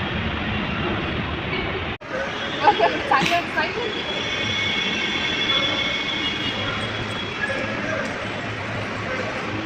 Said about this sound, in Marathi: मेट्रो येत आहे आता आणि या मेट्रोमध्ये ही आहे येलो लाईन.